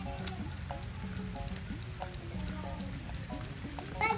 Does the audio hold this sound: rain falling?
yes